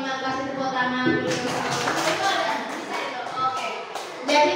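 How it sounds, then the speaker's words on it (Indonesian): Clapping breaks out at a positive-discipline culture dissemination session at SMPN Satap 2 Tanjung, a dense patter of many hands starting after about a second and continuing steadily, with a tonal voice or music running underneath. "kasih tepuk tangan dulu"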